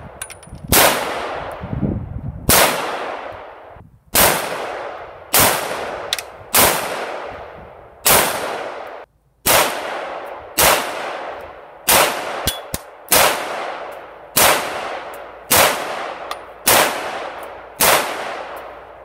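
A 300 Blackout pistol fitted with a 30 caliber Fully Loaded linear compensator fires about fifteen loud, sharp shots at a steady pace of one every second or so, each followed by a brief ringing decay outdoors.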